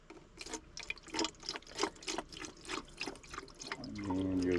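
Coolant pours into a tractor radiator overflow tank as a steady splashing, gurgling stream that ends in a rising, fuller liquid tone as the tank fills, with no one talking.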